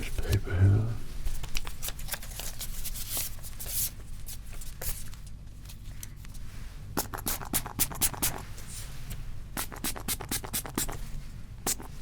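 Paper perfume tester strips are handled at a perfume store counter, giving soft rustling and crisp papery scratches and flicks in scattered bursts, close and quiet, with a low voice talking gently in the background.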